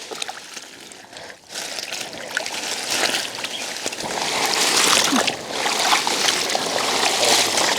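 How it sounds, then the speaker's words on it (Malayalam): Freshly harvested turmeric and arrowroot are washed in plenty of water, giving continuous sloshing, splashing and trickling that grows louder midway, with brief knocks. "ഒരുപാട് വെള്ളം എടുത്തിട്ടാണ് കേട്ടോ കഴുകി കോരുന്നത്."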